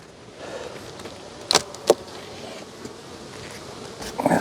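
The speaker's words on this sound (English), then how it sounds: "there's a lot of bees in the top" Honeybees buzzing around a hive in hot weather during a honey harvest, a steady insect drone with a few louder bees passing close by.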